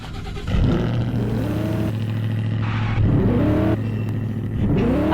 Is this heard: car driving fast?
yes